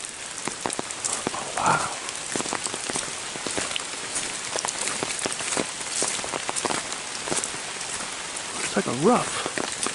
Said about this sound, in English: Just kind of a steady drizzle, just about the whole day long